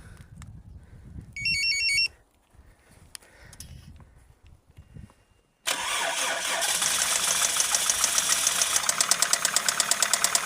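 A Toyota 7A-FE engine cranks and fires after a short electronic beeping, then settles into a loud, steady idle with a rhythmic ticking knock from the cylinder head.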